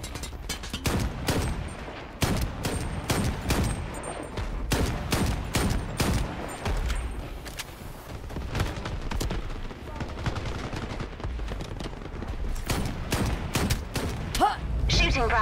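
Rapid automatic gunfire in the Shatterline PvP team deathmatch shooter, with dense repeated bursts and thuds running throughout at a steady pace, a voice occasionally speaking underneath.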